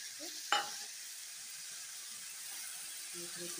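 Tomato with a paste of cumin, ginger, onion, garlic and chilli sizzles softly in a pan, with a single sharp scrape of stirring near the start and a steady quiet fry afterward.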